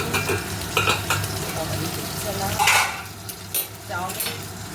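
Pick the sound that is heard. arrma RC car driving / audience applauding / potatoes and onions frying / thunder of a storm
potatoes and onions frying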